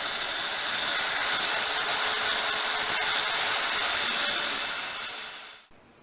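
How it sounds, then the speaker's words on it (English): A power tool cutting slots into a live edge wood slab, a steady loud high-pitched whirring grind that runs continuously for several seconds, then winds down and cuts off abruptly near the end, with no talking. "I cut out slots so the slab would slide in between the wall studs."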